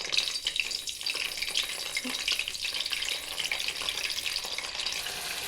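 Eggplants frying in hot oil in a pan for a Maharashtrian vangi bhaji, a steady, dense sizzle that holds fairly even throughout with no talking.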